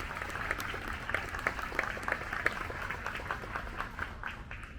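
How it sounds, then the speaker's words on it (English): A crowd claps outdoors at night during a holiday candlelight event, a dense, even patter of many hands at moderate distance, fairly soft and continuous for about five seconds. "Yeah, clap."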